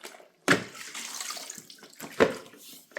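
Water poured onto a surface in two short splashing bursts, the first sharp and loud, the second softer, with a faint trickling wash between them and no talking.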